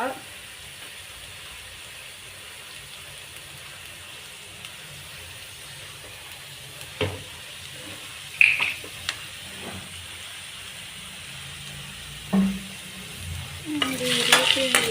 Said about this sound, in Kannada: ಈರುಳ್ಳಿ ಅಂದರೆ ಬ್ರೌನಿಷ್ ಥರ ಆಗಬೇಕು ಈರುಳ್ಳಿ. ಆ ಥರ ಹುರಿಬೇಕು ಇವಾಗ.